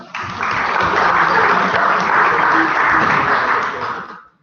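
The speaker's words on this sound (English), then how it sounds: "A round of applause for Eleanor." A room of students at a JCR meeting gives Eleanor a round of applause, a full burst of steady clapping that swells, holds, then fades out at the end.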